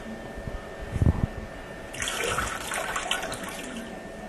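Water drains from a toilet tank during a repair, a few low thumps giving way to a steady splashing, gurgling rush of water that continues to the end.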